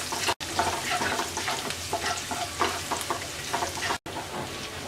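Four cloves of chopped garlic frying lightly in oil while an olive pickle is being made, giving a continuous soft crackling sizzle, close but fairly quiet, with brief gaps where the sound cuts out.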